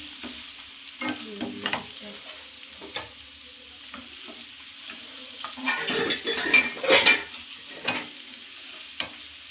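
Garlic frying to golden brown with dried chillies, both regular and Kashmiri, in a pan for garlic chilli chicken, a light sizzle under frequent spatula scrapes and metallic clinks, with a louder flurry of stirring midway.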